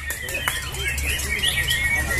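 A young white-rumped shama sings a quick run of bright chirps and whistled phrases, close and clear over a low background hum.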